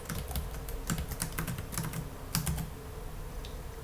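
Rapid keyboard typing while coding a web form, a steady run of close, crisp key clicks with irregular rhythm and no voices.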